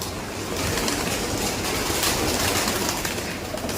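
Pigeons coo and flap outdoors in a dense, continuous wash of sound. The wings and calls blend into a steady, loud texture with no clear pauses.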